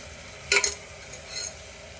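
Mutton hitting a hot pan with garlic paste, a brief close burst of sizzling and a clatter, followed by a softer second crackle over quiet frying.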